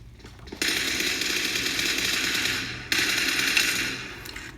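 Rapid automatic gunfire in a PUBG Mobile firefight, two long rattling bursts, the second starting abruptly after a brief break, loud and dense with no talking.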